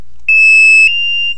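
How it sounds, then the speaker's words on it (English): A single loud, high electronic startup beep from an MSA Altair 4 gas monitor with a sharp tone, followed by a fainter sustained ring that fades out. "start it by holding the middle button until it beeps"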